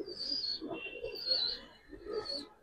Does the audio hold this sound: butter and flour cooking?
no